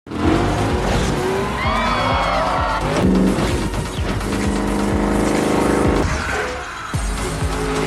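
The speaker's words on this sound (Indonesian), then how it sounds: "Lalu Letty pun mulai balapan." Street race cars from the action film Furious 7 roar loudly and continuously, with rising and falling engine revs and bursts of tire squeal.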